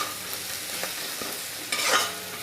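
Chital fish fries in a pan for a curry with green peas and tomato, giving a steady close sizzle broken by soft stirring scrapes, with a brief louder crackling burst near the end.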